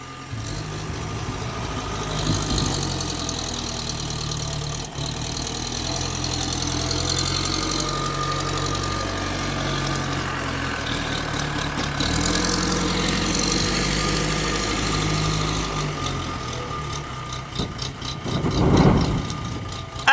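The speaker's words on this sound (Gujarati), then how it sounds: "હવે લોડર ચાલુ કર્યું" A loader's diesel engine runs steadily at idle near a tipper truck being loaded with material, a continuous low rumble with a faint knocking beat and brief mechanical clatter toward the end.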